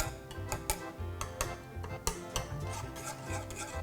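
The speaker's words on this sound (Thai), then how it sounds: "เดี๋ยวคนให้จนมันสุกดีก่อน" A spoon scrapes and taps steadily in a pot while stirring a thickening salmon, lime, milk and egg custard, giving soft rubbing strokes punctuated by irregular clicks against the pot, close and fairly quiet.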